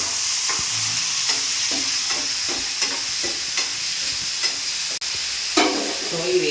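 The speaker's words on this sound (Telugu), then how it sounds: "టొమాటోలు వేసి ఇలా బాగా మధ్య వరకు వేయించాలి." Chopped tomatoes frying in a pan for a Telugu tomato and drumstick curry, a steady loud sizzle with regular scraping taps from a spoon stirring, close by and without talk.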